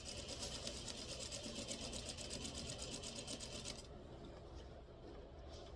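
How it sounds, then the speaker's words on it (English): Steady, rapid mechanical whir of a sewing machine basting a collar stand seam, loud and continuous for about four seconds, then stopping and leaving a low hum. "I'm going to leave it on basting because I'm going to sew it again"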